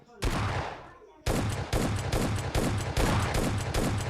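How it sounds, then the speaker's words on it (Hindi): Loud video game gunfire: one sharp shot with a fading echo, then a rapid string of repeated shots in quick succession, close and dense. "मेरे से गोली टैप हो जाती है, गोली चल जाती है यहाँ पे।"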